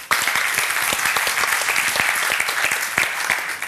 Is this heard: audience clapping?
yes